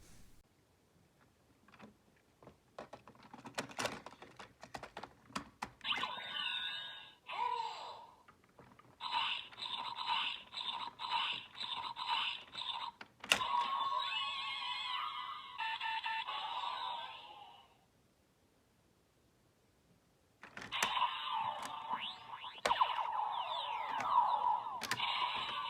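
A Kamen Rider Gavv Henshin Belt toy is worked by hand with clicks and cranking, then bursts of tinny electronic transformation sound effects and music play from its small speaker in several separate stretches.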